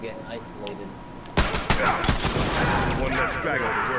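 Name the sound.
hunting rifle gunshots in a video game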